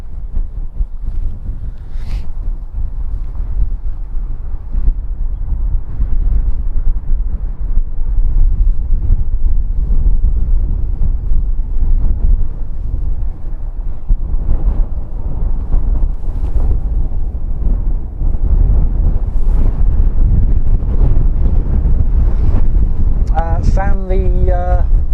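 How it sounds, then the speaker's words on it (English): Strong wind at Christchurch airport roars steadily into the microphone, a loud continuous buffeting rumble; a brief voice comes in near the end. "the wind took a lunch break and has decided it's time to come back to work now"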